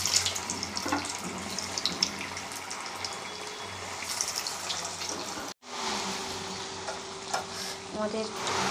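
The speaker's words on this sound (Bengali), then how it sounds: "আমাদের পিঠে ভাজা হচ্ছে।" Mung dal puli pitha frying in oil in a wok over low gas, a dense continuous sizzle with some stirring clatter and a brief break partway through.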